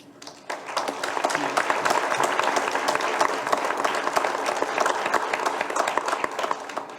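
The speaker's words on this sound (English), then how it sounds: "hear your warm applause" Warm audience applause at a university leadership awards ceremony, a dense, steady wash of many hands clapping that swells in quickly and holds at full strength for several seconds, with no voices over it.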